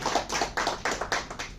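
Audience applause greets a singer at a stage programme: a brief run of hand claps, evenly spaced and fairly close, with no voices.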